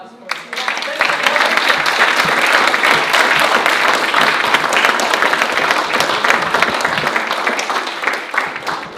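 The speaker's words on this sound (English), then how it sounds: "how about another round of applause for" An audience at a public geology talk about Kilauea breaks into loud, dense applause that holds steady for the whole stretch, with a few scattered voices mixed in.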